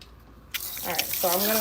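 A salon sink tap starts running for a cold water rinse, a steady splashing flow rising in level after a brief knock, with a voice talking over the water.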